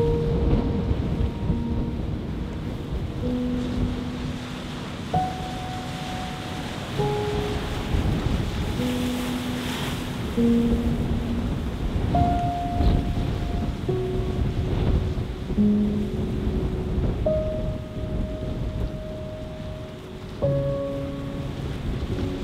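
Waves crash and surge along the rocky Norwegian coast, a continuous loud roar of surf with swelling rushes, while faint tonal beeps sound over it.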